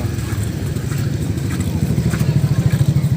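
Motorcycles in a flooded town during a typhoon, a rough, pulsing engine chug close by that grows into quicker rhythmic throbbing toward the end, over a general outdoor clatter.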